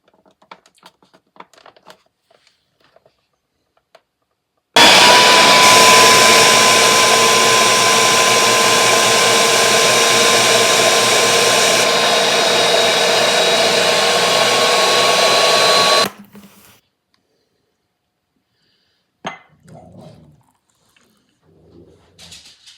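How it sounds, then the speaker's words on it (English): A blender on high speed whirs loudly and steadily for about eleven seconds while blending a raspberry banana smoothie, starting and stopping abruptly amid quiet kitchen handling sounds before and after. "I'll put the water blender on high for about a minute until it's nice and smooth."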